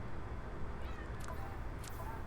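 A cat meows faintly twice against a steady background hum, the short calls sounding distant and thin.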